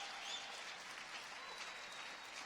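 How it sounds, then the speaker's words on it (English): Crowd applause at a hackathon closing ceremony, a dense continuous patter of many hands clapping at an even level for a couple of seconds, with no voices over it. "big round of applause for these guys"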